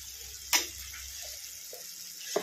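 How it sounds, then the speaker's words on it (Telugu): Ginger garlic paste, salt and turmeric fry in a pan for a gongura pachadi, a faint steady sizzle with a couple of sharp clicks. "ఇప్పుడు ఇవి ఉప్పు, తగినంత పసుపు, అల్లం వెల్లుల్లి పేస్ట్ వేసి బాగా ఫ్రై చేసుకోవాలి"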